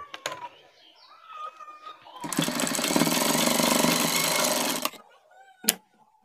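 A sewing machine stitches along a shirt sleeve cuff placket in a short, loud, steady burst of close motor whir lasting a couple of seconds, framed by quieter handling sounds and a sharp knock.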